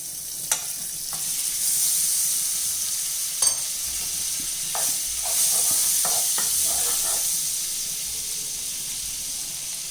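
Butter sizzles in a hot pan with burger buns, a steady close hiss with a few sharp clicks and brief scraping stirs over it.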